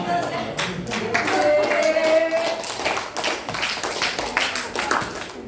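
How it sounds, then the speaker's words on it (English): Students applauding a classmate in a classroom during a reading lesson, a few seconds of scattered, uneven hand claps with faint voices underneath. "Give applause to Mahela."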